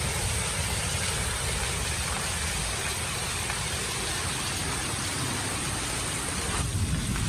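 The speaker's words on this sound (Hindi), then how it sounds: "इतनी मूसलाधार बारिश आ रही है। आप देख रहे हैं बारिश का शोर, आप सुने कितनी आवाज़ आ रही है।" Torrential rain pours down steadily over a Punjabi village, a dense, loud, unbroken hiss with no talking and no pause.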